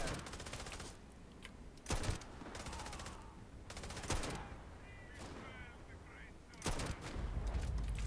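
Gunfire erupts in the video game Starfield during a fight with zealots, with loud bursts of shots near 2, 4 and 7 seconds over a constant game soundscape.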